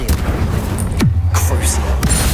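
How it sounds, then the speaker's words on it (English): An Incendio fire spell cast in Hogwarts Legacy, heard as booming magical blasts with a sharp crack and low rumble amid ongoing combat effects, loud and close, with a voice talking over parts of it. "Incendio."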